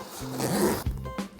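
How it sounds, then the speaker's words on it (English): A watertight zipper on a DJI Mini 2 drone case is pulled open in a quick, close rasping burst, with a short second pull near the end. "Looks like a watertight zipper."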